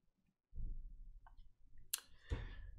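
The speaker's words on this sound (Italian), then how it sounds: "Doppio clic" A computer mouse button clicks during a PC check of arcade emulator ROM sets, a short burst of sharp clicks standing out from quiet low background rumble.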